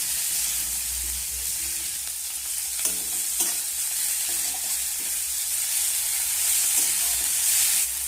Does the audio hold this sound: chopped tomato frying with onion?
yes